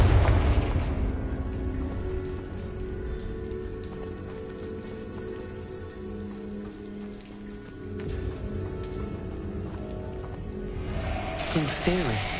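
A Confringo spell goes off in the video game Hogwarts Legacy with a loud booming blast at the start, then a long crackling rumble with a steady texture like rain, and a voice talks over it.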